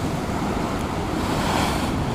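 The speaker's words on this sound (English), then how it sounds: "I can't believe the power of these waves." Powerful ocean surf pounding a North Norfolk beach, a loud continuous roar of breaking waves mixed with wind buffeting the microphone, steady and close with no voices.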